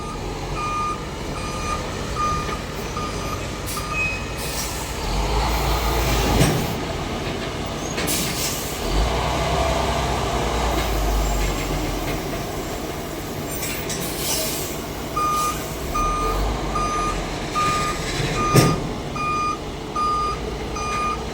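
A long truck turning and reversing, its backup alarm beeping in steady regular pulses over rumbling engine noise, with brief squeals and knocks along the way.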